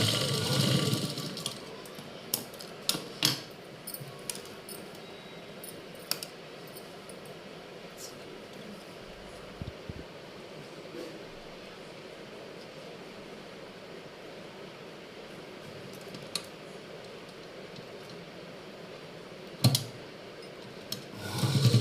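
A sewing machine stitches a long frock, a soft steady mechanical whir running throughout, punctuated by a few sharp clicks and knocks near the start and end.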